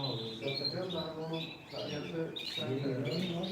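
Canaries chirp and trill continuously at a canary auction in Ümraniye, a busy layered chorus of high tweets heard close by, with people's voices faintly mixed underneath.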